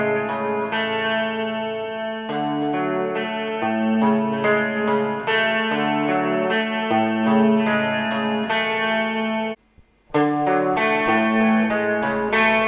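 Electric guitar run through effects, playing a riff: a loud, steady stream of ringing picked notes with echo and chorus, briefly cutting out near the end before resuming.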